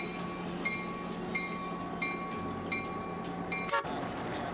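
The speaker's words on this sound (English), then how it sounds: "The passenger consist is being pulled in." A passenger train consist is pulled in at Trainfest 2004, a steady low rumble of rolling stock with sustained tonal whine and short metallic squeals, rising to a brief louder burst near the end.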